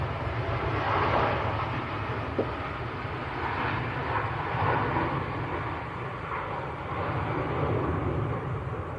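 A Boeing 787-9 Dreamliner at Manchester Airport produces a steady, broad jet engine roar that holds throughout, heard from a distance with no talk.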